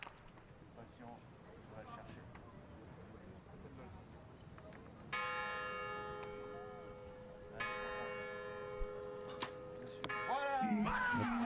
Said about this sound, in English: Blocking out the tolling bells.